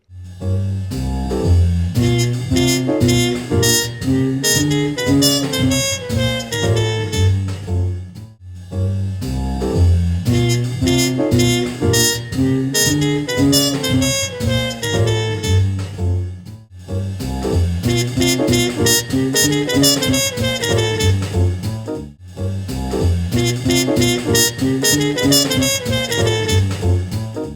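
A jazz solo recording played back slowed to about 60% speed, with sustained melodic lines over a band, broken by brief pauses between repeated passes.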